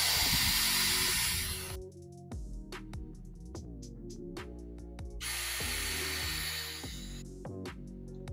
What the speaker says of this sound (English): I'm just gonna drill out these holes